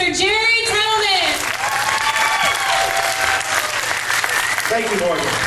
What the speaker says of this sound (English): Please help give me a big round of applause for your 49th congressional candidate, Mr. Jerry Tetalman.